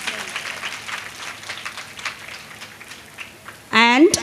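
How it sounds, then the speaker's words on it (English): Audience applause at a school annual day prize-giving for house captains, a patter of clapping from a crowd in a hall that ends as a voice begins speaking over a loudspeaker. "Please give them a big round of applause."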